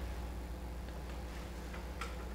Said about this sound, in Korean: 소리를 끄려면 시계를 멈춰야 돼요.